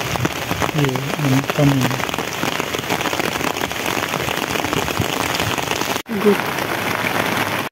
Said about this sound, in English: Lakas ng ulan sa unahan.